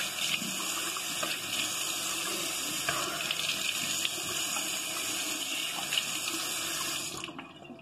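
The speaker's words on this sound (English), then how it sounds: "I'm done washing my face" Tap water runs steadily into a bathroom sink during face washing, a close, even splashing flow that cuts off just before the end.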